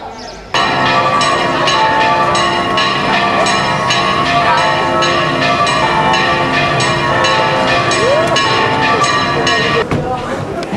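Church bells ring steadily at the cathedral of Santo Domingo de la Calzada, a dense sustained peal with repeated strikes filling the space from start to near the end, loud and close.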